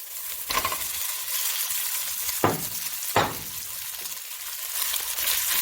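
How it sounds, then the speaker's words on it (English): Beef sizzles in a wok of hot oil with garlic and ginger, a steady crackling fry broken by a few sharp bursts as pieces are stirred and spread, heard close with no talking. "Then I'm going to add in my meat."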